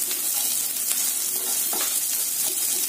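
Chana dal and dried red chillies sautéing in a pan with lightly fried onions for tomato kuzhambu, a loud, dense, even sizzle with faint stirring scrapes throughout.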